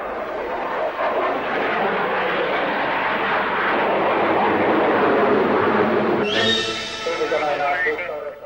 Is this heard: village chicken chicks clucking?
no